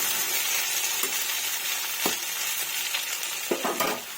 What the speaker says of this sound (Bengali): এগুলো কিন্তু সুন্দরভাবে আমি একটু নাড়াচাড়া করে নেব